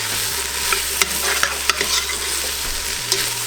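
Green peppers frying in oil in a pan for homemade spaghetti sauce, stirred with a utensil, giving a steady close sizzle broken by sharp scrapes and clacks against the pan bottom.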